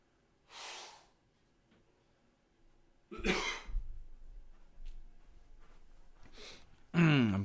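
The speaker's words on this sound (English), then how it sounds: "I'm coughing and blowing my nose" Several separate coughing fits from one nearby person with quiet breathing gaps between them, finishing in a harsh, loud burst.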